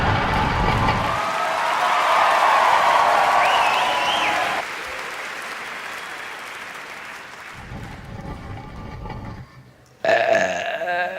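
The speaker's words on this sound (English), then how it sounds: "Oh, I did a burp." A single drawn-out burp rumbles up close near the start, then a noisy stretch with cheering and clapping follows, ending in a brief louder burst.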